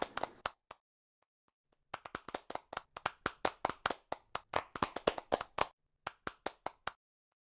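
A small group of people claps at an awards celebration, a brief burst of claps followed by a pause, then a steady run of sharp, close handclaps ending in a few scattered final claps.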